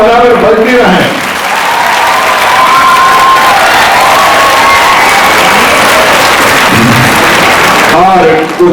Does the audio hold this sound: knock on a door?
no